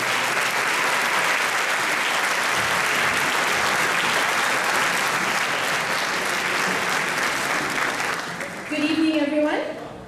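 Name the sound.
audience applause for the new principal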